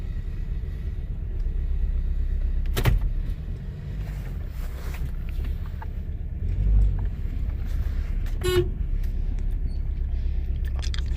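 A 2009 Toyota Matrix engine with a misfire idles rough in a low, steady rumble, with occasional knocks and clicks from the car.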